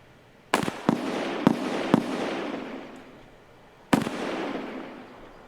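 Gunshots in Escape From Tarkov on a Customs map: five sharp reports, four in a quick uneven burst and a fifth after a pause, each trailing off in echo.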